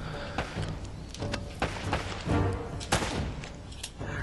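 Gunfire in a firefight from Uncharted: Drake's Fortune, a dense burst of repeated loud shots and thuds that overlap with no pauses, close by and filling the whole stretch.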